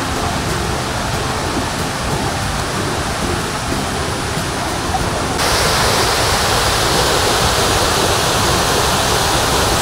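The Thommenkuthu waterfall roars as a dense, constant wash of falling water, loud and close, filling the whole soundscape and growing even fuller partway through, with no voices.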